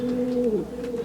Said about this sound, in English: I don't know how much pigeons are back.